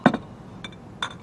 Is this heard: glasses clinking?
yes